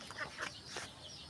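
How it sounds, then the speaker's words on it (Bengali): Chickens clucking softly in a coop at afternoon feeding time while pecking at wheat, a few short faint clucks close by. "এই যে মুরগি এখন খাচ্ছে"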